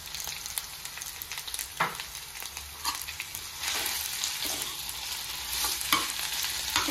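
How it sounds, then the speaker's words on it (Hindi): Boiled, mashed potatoes fry in a pan for stuffed capsicum, a continuous close sizzle broken by repeated scraping strokes of a spoon stirring them. "तो आलू को भी इसमें भून लेना है।"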